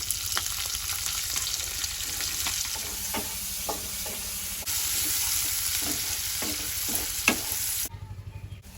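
Whole garam masala, whole garlic cloves and chopped onion hit hot oil in a frying pan for chicken rezala, crackling in a steady sizzle with intermittent stirring scrapes before the fry suddenly quiets at the end.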